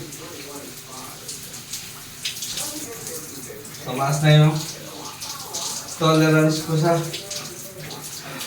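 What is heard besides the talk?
cold shower running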